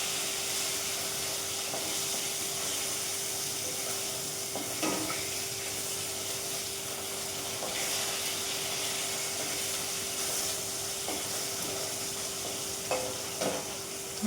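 Katla fish pieces for a curd-style katla dish fry in hot oil, giving a steady close sizzle throughout with occasional faint clicks of stirring and a low constant hum beneath.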